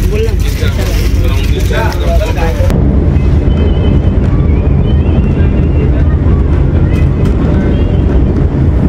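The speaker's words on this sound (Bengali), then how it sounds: "এই সময় ট্রেন কিন্তু খুব গতি বাড়িয়েছে" A loud, steady rumbling roar of a Vande Bharat train running at high speed at night, heard from inside, with rushing wind noise and clattering, continuous throughout.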